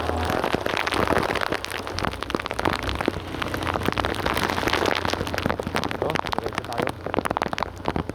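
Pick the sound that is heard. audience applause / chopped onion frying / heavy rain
heavy rain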